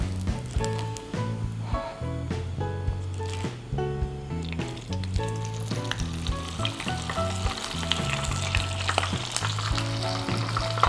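Pizza goreng dough frying in hot oil, a steady close sizzle and bubbling that runs the whole time beneath a melodic backing track.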